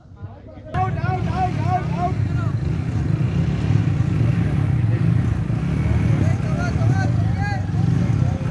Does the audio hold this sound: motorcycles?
yes